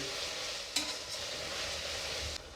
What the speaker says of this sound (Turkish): Şimdi soğanlarım kavrulduktan sonra Doğramış olduğum biberleri ilave ediyorum.